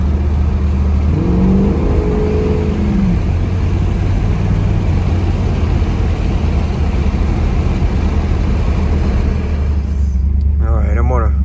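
A car held at a stop at a traffic circle, then floored hard, a loud, steady engine roar and road rumble with a rising whine near the start, continuous for several seconds, close inside the cabin.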